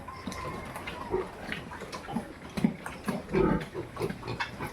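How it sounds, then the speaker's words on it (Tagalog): A boar on a backyard farm grunts repeatedly in short, rough bursts at close range, with a few louder snorts among them and no talking. "Ayan ang barako. Yan siya ang barako."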